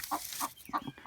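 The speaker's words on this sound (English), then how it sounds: "Now let's go see if that broody hen." A broody hen clucks in a series of short, close, distinct calls, about four quick clucks in a bit over a second, with no talking over them.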